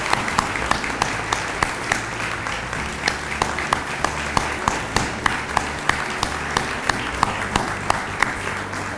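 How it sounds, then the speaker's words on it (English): A room full of guests at a charity gala applauds in a sustained, dense round, with a few sharp individual claps standing out above the steady wash of clapping. "offer up a round of applause for them especially"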